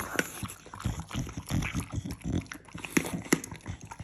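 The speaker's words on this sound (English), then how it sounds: "And you hear him chew," A dog chewing meat from a charcuterie spread, with close, wet bites and crunches repeating in an uneven rhythm throughout, with no one speaking.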